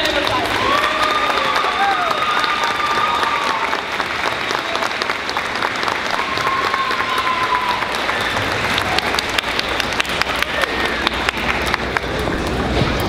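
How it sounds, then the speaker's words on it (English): Sustained audience applause fills a first grade school concert, steady and dense throughout with faint voices and cheering mixed in. "Give her a round of applause."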